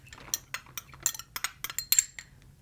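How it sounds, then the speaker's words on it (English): Garlic cloves dropped into a dish of chicken for Moroccan chicken with figs, a quick run of light clinks and taps close by, irregular and crisp, with no voices. "So to this, I'm going to add 6 cloves of garlic"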